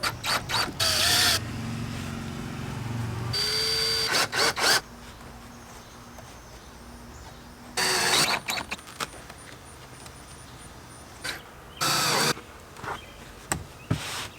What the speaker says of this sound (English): So let's go ahead and cut it a little bit.